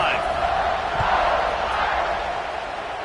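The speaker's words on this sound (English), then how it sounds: "this crowd is feeling themselves after that last drive" A stadium crowd at a college football game roars in a broad, steady wash of cheering and noise after a scoring drive, loud and sustained, with talk running over it.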